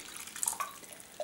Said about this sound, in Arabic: باش نصب شوية ماء